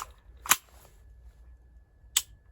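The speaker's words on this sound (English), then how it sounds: "so you can still hear the trigger pull" A frozen airsoft rifle's trigger is pulled twice, giving two crisp, sharp clicks about one and a half seconds apart over quiet background hiss.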